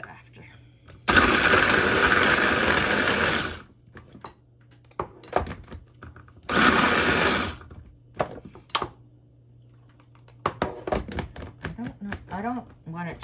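A kitchen blender purees chopped tomatoes for homemade salsa in two loud sustained whirring bursts, separated by clunks and handling noises, with soft talk in between.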